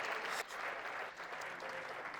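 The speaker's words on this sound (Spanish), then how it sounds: "Denle un aplauso al Señor, los que son jóvenes" A church congregation applauds in a short burst of brisk clapping, fairly close and even, lasting about two seconds.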